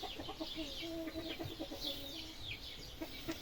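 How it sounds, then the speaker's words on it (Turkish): An Arab rooster clucks softly in short, repeated bursts, fairly close, with faint background bird chirps and a low ambient hum. "burada bizim Arap horozumuz var"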